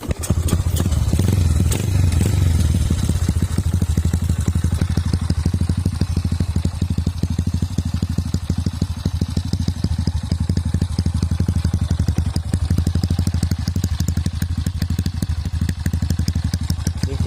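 A Honda Wave 125 motorcycle engine with stock piston runs loudly and steadily close by, with a rough, throbbing exhaust note and mechanical clatter, revving slightly early on.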